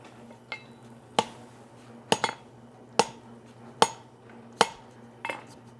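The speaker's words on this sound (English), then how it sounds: "I'm gonna pull these out, put them on top of each other, and give it a light hammer blow" Light hammer blows ring on an anvil during a forge weld of drop tongs, six or so sharp metallic strikes spaced about a second apart over a steady hum of the forge.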